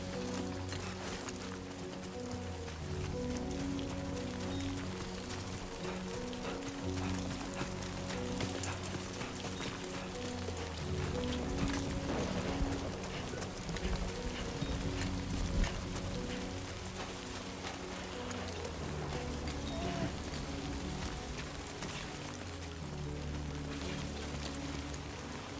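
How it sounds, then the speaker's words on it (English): Steady rain falls in the video game Death Stranding 2, a continuous loud wash of patter that runs the whole time beneath a sustained low musical drone. "Rain. Gotta move."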